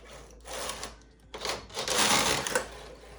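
A home knitting machine carriage runs back and forth across knitting in short mechanical sweeps, with a brief pause between passes. The machine could use some oil.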